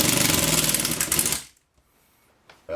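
A power driver runs a screw into a mobile home interior storm window, a steady buzzing whir for about a second and a half, then silence before a brief restart at the end.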